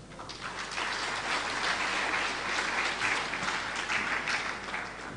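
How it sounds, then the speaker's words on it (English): Sustained audience applause at a book launch in the Victoria Gardens in Blantyre, dense and steady throughout, a broad wash of many hands clapping with no voices on top. "I think he deserves an applause for that."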